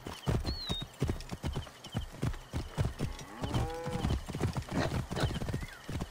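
Horse hooves clip-clop at a quick gallop during a chariot race in Assassin's Creed Origins, with a whinny partway through. Game voices speak over the hoofbeats.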